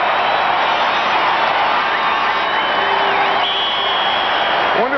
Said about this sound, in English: The crowd will let you know how they feel about it.